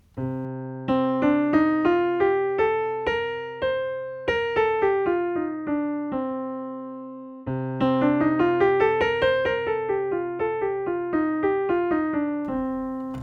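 A melodic instrument plays a Dorian minor scale with a natural sixth, clear sustained notes stepping up and back down in two even passes, each tone ringing over a steady low drone.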